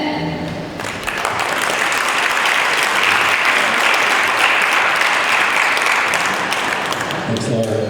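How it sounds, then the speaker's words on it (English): Steady applause fills a room at a Rotary club meeting, a sustained clapping audience that swells in after a short lull and continues strongly throughout. "Let's give another round of applause"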